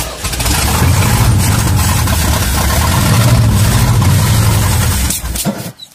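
An old Ford truck engine cold-starts and runs in a loud, rough, steady idle close by, then cuts out near the end.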